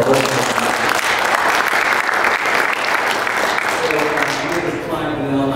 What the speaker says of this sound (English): give Jim a round of applause for our work